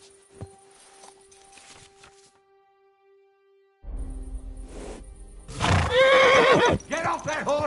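A horse whinnies loudly in the medieval open-world game Kingdom Come: Deliverance 2, a rising and falling neigh arriving after a quieter stretch of faint ambience and low rumble, with a brief voice earlier.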